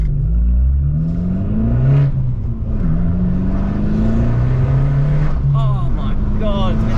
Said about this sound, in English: when that turbo kicks in.